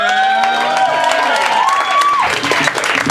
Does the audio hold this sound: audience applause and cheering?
yes